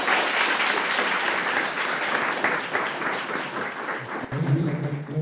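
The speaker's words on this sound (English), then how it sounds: "So clap for this plant." A game development event audience applauds an idle game entry called Just Watch This Plant and Chill, with dense, steady clapping throughout and a brief voice near the end.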